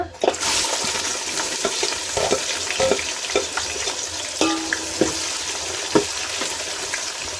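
Onions sizzle and fry steadily in a pan with whole spices like cinnamon, cardamom, cloves, pepper and bay leaf for chicken biryani, with loud continuous crackle broken by sharp clicks and scrapes of stirring.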